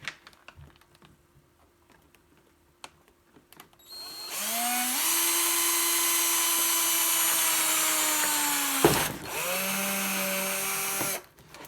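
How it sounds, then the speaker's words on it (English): A power drill whines steadily, pitch dropping slightly as it bites into a plastic Traxxas Slash RC car body, pauses briefly, then spins up again before stopping. "I'm going to just drill right through while it's on there"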